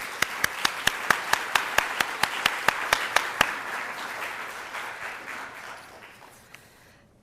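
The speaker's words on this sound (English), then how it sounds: "give them a round of applause" Audience at an academic lecture applauding staff members, a broad wash of clapping with one close, sharp, evenly paced clapper leading for several seconds before the applause fades out.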